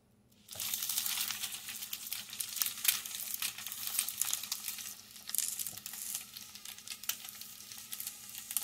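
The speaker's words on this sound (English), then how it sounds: "Now, I'm going to be making an over-easy egg, so I'm going to have to flip it." An over-easy egg fries in a pan with a steady close sizzle and spatter from start to finish, dipping briefly once midway; no voices.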